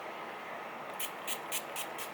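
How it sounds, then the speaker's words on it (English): NYX Dewy Finish setting spray misted from a pump bottle, five quick close hissing bursts in a steady rhythm after a brief quiet moment. "I do go over with a finishing spray. This is the NYX Dewy Finish setting spray."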